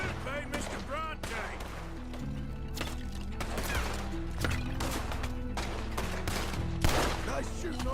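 Gunfire in the Red Dead Redemption 2 video game, repeated sharp shots and clustered volleys cracking out across the whole stretch, loud and close, over tense background music.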